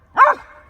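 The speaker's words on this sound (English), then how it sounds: "I gotta take care of this dog" A single loud, close bark from a dog in an open field near the Tetons, short and sharp with a faint echoing tail.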